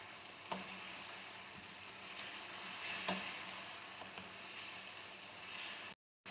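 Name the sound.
stirring spices in frying chicken karahi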